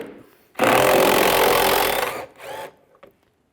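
A power tool, likely a drill or impact driver with a T30 socket, whirs loudly for about a second and a half as two screws are backed out under the front bumper cover of a 1998-2010 Volkswagen Beetle, followed by a brief second burst.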